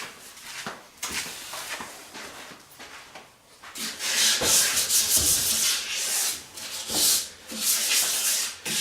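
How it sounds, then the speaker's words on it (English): Sandpaper rubs over a turned wooden leg in fast, rhythmic back-and-forth strokes that grow louder and harsher partway through, close up and with no voices. "Sitting here sanding over here where you guys can't even see me."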